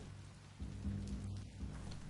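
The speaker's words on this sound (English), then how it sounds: "I can hear the raining, but the raining can't be seen on the outside." Heavy rain in the video game Biomutant pours down in a steady, even hiss, fairly quiet and with no voices over it.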